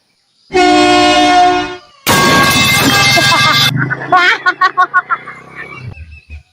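A loud, close, newly fitted vehicle horn blares in long sustained blasts, then a run of short rhythmic honks that fade out.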